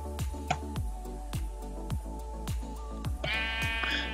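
Sheep in the Minecraft video game bleat over a steady game backdrop, with a rhythmic series of repeated thumps or footsteps running throughout and a brighter burst of sound near the end.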